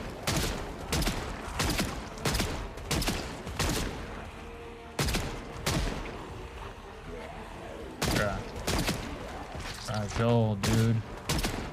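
Gunfire in the zombie survival game Project Zomboid: a long series of sharp, loud shots in uneven bursts, some rapid and some spaced, while someone speaks briefly between them.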